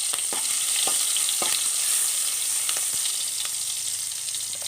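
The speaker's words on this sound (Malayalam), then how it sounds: "ഒരു പാൻ അടുപ്പിൽ വെച്ച് അതിൽ രണ്ട് ടേബിൾ സ്പൂൺ വെളിച്ചെണ്ണ ചൂടാക്കാൻ വെച്ചിട്ടുണ്ട് അതിലേക്ക് അരിഞ്ഞു വച്ചിരിക്കുന്ന ഇഞ്ചി വെളുത്തുള്ളി ഇട്ട് കൊടുക്കുക" Chopped ginger and garlic frying in two tablespoons of hot coconut oil in a pan: a constant bright sizzle, close and even, with a few sharp spoon taps scattered through it and no talking.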